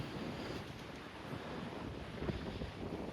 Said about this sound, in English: It's blowing probably 15 with gusts to 30, 40, enough to shake the whole tent.